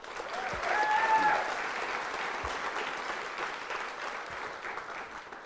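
A quiz show audience applauds steadily, a dense wash of clapping that peaks early and then continues at an even level throughout.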